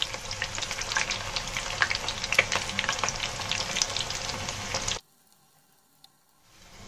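Maggi noodle snacks frying crisp in hot oil, a steady loud sizzle and crackle for about five seconds that cuts off abruptly into near silence, with a faint hiss returning at the end.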